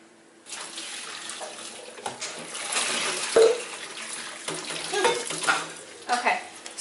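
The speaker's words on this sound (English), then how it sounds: "I'm going to go ahead and run cold water through it" A kitchen tap runs cold water over drained cooked noodles in a sink, a moderate splashing stream with occasional clatters and shifting as the noodles are rinsed.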